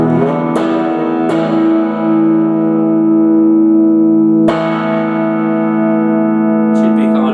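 A repaired Aria STG electric guitar rings out in sustained, loud chords and notes with several sharp strums, its tone shifting as the tone pots are turned, close and with no talking.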